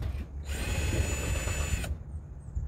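Electric power drill boring holes for a heavy metal padlock hasp, a single close, loud whirring run of about one and a half seconds that starts and stops abruptly.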